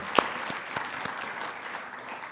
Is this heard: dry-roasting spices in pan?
no